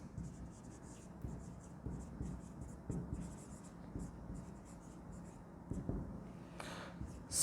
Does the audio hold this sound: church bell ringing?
no